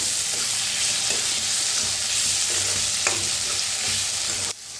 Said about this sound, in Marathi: तंबाटू भी अपन छान असं भाजून घेऊया मिक्स करूया आणि भाजूया